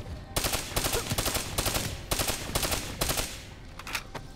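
Rapid bursts of automatic gunfire from the shooter game Call of Duty: Black Ops 3, loud and close, with several sharp volleys in an uneven rhythm and no talking.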